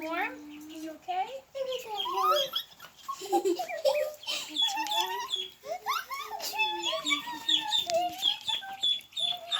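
Ducklings peeping in a rapid, high-pitched chorus of chirps close by, with someone talking softly over them.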